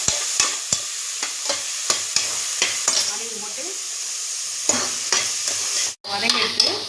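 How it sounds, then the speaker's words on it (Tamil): Carrots and capsicum sautéing in a pan for drumstick gravy, with a steady soft sizzle broken by repeated sharp scrapes and clinks of a stirring spoon, a brief pause near the end, and a short spoken phrase. "2 மினிட்ஸ் நல்லா வதக்கிட்டு நெக்ஸ்ட்டு ஸ்டெப்பை இதில் எடுத்து வச்சுருக்க குடமிளகா"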